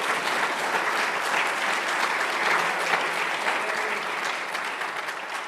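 Sustained applause from a church congregation for the Lord, with even, crowded clapping held at a moderate level throughout.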